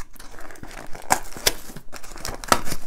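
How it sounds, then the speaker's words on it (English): Close crinkling and ripping as a taped shipping package is torn open by hand, with sharp tearing bursts and crackling plastic or cardboard, fairly loud and without speech. "so I can just tear this thing open"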